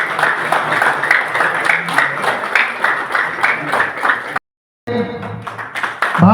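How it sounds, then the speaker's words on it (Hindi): A seated audience at a national community conference in Ranchi breaks into loud, sustained clapping that fills the room, then cuts off briefly before a smaller burst of applause resumes. "सभी लोग जोरदार ताली से स्वागत"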